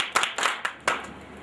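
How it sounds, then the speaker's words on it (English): A small audience claps hands in a few loose, uneven beats during a sing-along at an entrepreneurship workshop, close and fairly crisp. "If you're happy and you know, clap your hand."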